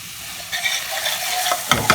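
Garlic and methi frying in a pan over low heat give a soft, continuous sizzle, broken by a few sharp scraping stirs near the end, with no voices.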